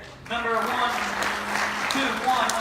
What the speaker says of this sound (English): y'all give me a round of applause there